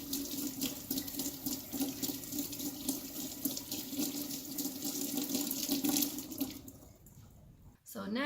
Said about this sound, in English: So I've got a little sink here. I'm just filling this with cold water.